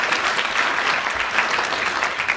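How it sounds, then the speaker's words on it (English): A studio audience at a radio panel game applauds Clement Freud with a short burst of dense, even clapping that stays steady and close throughout. "Another extra round of applause and a bonus point to Clement Freud"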